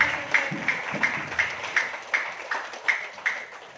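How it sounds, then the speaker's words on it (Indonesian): Audience applause at an Indonesian motivational talk, heard as a steady run of rhythmic claps, roughly three per second, moderately loud and fairly close, with no voices over it. "Ya, berikan aplaus untuk ini."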